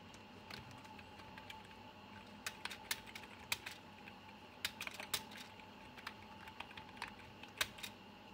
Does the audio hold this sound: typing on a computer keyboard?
yes